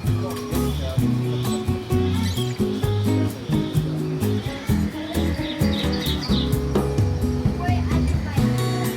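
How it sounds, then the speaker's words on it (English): A small bird chirps in quick bright tweets during a bird-feeding stop at Discovery Cove, heard over a busy mix of people talking and ambient noise. "You little bird. What are you? I don't got no food yet. You hungry?"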